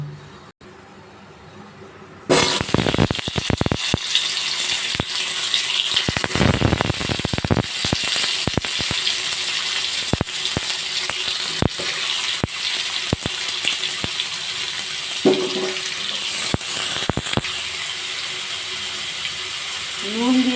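Indian hog plums dropped into hot oil with panch phoron and dried chillies for a chutney, bursting into a loud, sudden sizzle that keeps hissing and crackling close up, with faint clatter and brief speech near the end.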